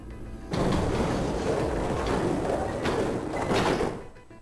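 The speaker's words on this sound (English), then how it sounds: "they both pushed, and the gate creaked open" A heavy gate in the video game 999 grinds open, a loud rumbling, scraping rush lasting several seconds before it fades.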